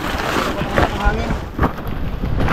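Strong wind blows outdoors beside a boat, a loud steady rush with gusty swells across the whole stretch and no clear speech.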